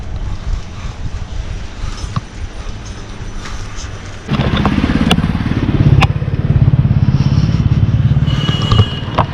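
Motorbikes on a road in suburban Kolkata, a nearby engine rising into a loud, steady throbbing drone past the midpoint, with street clatter around it.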